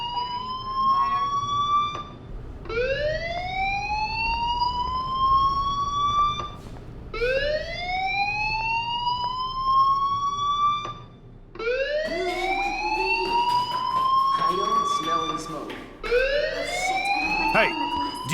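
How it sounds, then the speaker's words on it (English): A wailing alarm in the Life is Strange video game sweeps upward again and again in long rising tones, loud and steady for the whole stretch, with a voice talking over it. "do you hear that fire alarm?"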